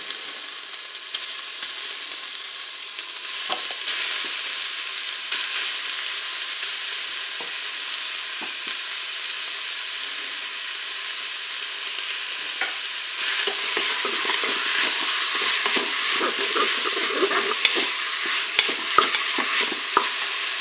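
Minced beef frying in a Cookeo pot for courgette and beef lasagne, a steady close sizzle with light stirring scrapes that grows louder and busier toward the end.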